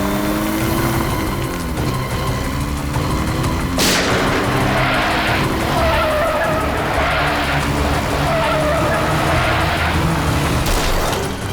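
A car pulls away with loud tire squeals and skidding over a steady engine roar, with a sharp burst near the start and another toward the end, close and continuous throughout.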